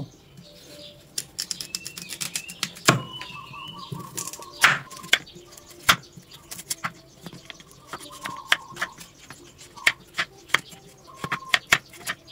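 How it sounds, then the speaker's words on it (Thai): Sharp, irregular knife chops knock against a cutting board as a peeled carrot is cut into long sticks, close by, with a few quieter taps in between and some faint background noise. "จะหั่นเป็นแท่งยาวๆ"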